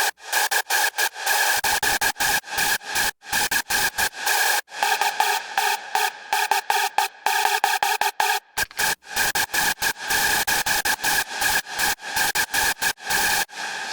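A distorted raw hardstyle screech synth, harsh and buzzy, plays in choppy repeated stabs with abrupt gaps, heavy distortion and little detuning, loud and alone without any talk.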